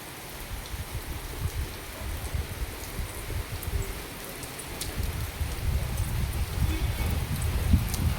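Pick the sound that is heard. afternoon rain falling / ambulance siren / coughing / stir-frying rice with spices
afternoon rain falling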